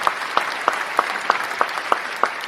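Steady rhythmic clapping rings out like a crowd beating time together, about one sharp clap every third of a second, loud and even over a continuous crowd wash.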